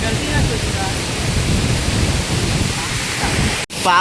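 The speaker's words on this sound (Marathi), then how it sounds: "पाण्याची डायरेक्ट झरार इकडे येते अशी." Forest waterfall pouring down over rocks, a loud, steady broadband rush of falling water close by that continues throughout, with a brief dropout near the end before the roar resumes.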